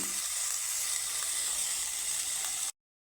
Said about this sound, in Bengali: সবগুলো উপকরণ আমি সুন্দর করে ভেজে নেব